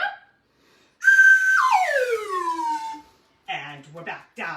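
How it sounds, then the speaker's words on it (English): A handheld slide whistle sounds a long sustained note that swoops downward, then gives a few shorter bursts after a pause, loud and close with no speech. "I'm going to get my handy dandy whistle"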